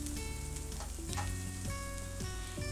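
Beans, carrot, onion and cabbage stir-frying in a pan, a soft steady sizzle with light scraping as the vegetables are tossed, close and quiet, with no speech.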